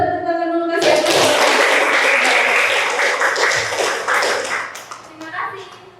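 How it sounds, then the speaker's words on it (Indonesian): Audience applause and hand clapping at an Indonesian talk about reducing vehicles on the road, starting abruptly and filling the room as a dense, loud wash before tapering off near the end. "Boleh kita tepuk tangan dulu"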